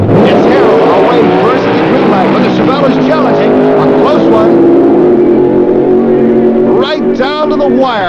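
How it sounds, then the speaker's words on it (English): Drag racing cars launching down the strip, a loud, close roar of engines whose pitch climbs and sweeps as they accelerate, with another rising engine surge near the end. "Now the flagman's bringing them to the line, and we are about to watch another great race."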